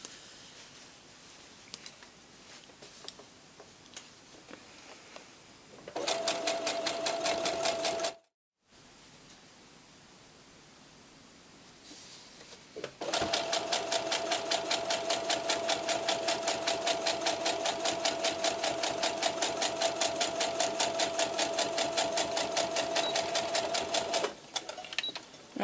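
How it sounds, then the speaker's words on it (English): A sewing machine runs in two long continuous bursts, chain stitching strips of baby blanket together, with a steady rapid whirring needle rhythm, a short pause and quiet handling between runs. "I'm going to chain stitch these 2 together"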